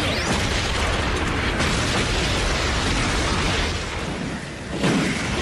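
Cartoon explosions from an animated robot battle, a building attacked as humans fire back from it, heard as a continuous loud rumbling barrage of blasts and debris, with a fresh burst near the end.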